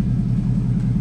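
A 2017 Ford Mustang GT's 5.0L V8 exhaust idles close by, a deep, steady rumble, low and throaty with a constant even drone and no voices.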